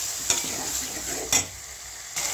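Tomatoes with curry leaves and turmeric sizzle in a pan, a steady frying hiss broken by a few sharp scrapes of a stirring utensil.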